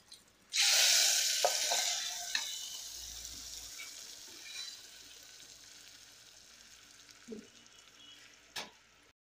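Salted dried chillies hit hot oil in a tempering for fenugreek dal, bursting into a sudden loud sizzle that gradually fades to a quiet crackle, with a few light clinks of a utensil.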